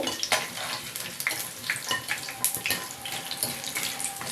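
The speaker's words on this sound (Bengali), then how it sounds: "লাল লাল করে ভেজে নিতে হবে।" Okra fritters frying in hot oil, a close, busy crackle and sizzle with irregular pops throughout, alone without talk.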